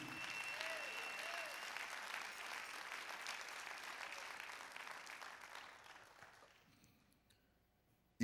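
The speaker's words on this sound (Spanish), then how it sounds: "Ese aplauso sea para Jesús" A church congregation applauds at a sermon, broad sustained clapping that gradually thins and fades away toward the end, leaving near silence.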